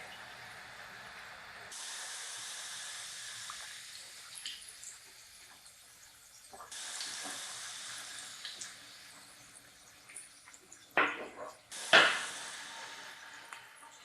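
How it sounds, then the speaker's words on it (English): Chicken wings for Korean-style wings fry in hot oil, giving a steady, close hiss of sizzling and bubbling that swells in broad waves, with a few sharper crackles and pops near the end. "This is going to cook in this oil for around about 12 minutes, 10 to 12 minutes."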